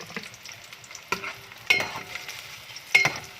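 Garlic stir-fries in a hot pan with a steady sizzle, broken by several sharp scrapes and clinks of a spatula against the metal at irregular intervals.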